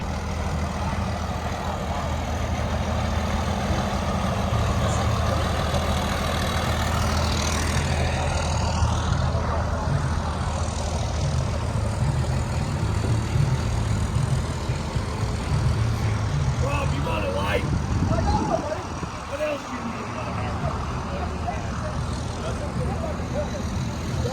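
Car and truck engines idle at a parking-lot car show, a steady low rumble with occasional revving swells and passing whooshes, while people talk in the background.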